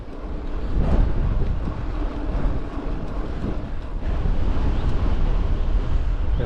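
Strong wind buffets the microphone while running beside Windscar Reservoir in the Holme Valley, a steady loud roar of rumbling gusts with no talking.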